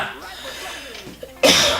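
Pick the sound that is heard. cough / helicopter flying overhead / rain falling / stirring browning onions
cough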